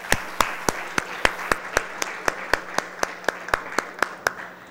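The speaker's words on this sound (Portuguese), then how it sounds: "a qual eu peço uma salva de palmas" Steady, even clapping fills a council chamber during a session, the sharp claps coming at a regular beat and holding at a moderate level from start to end, with no one talking.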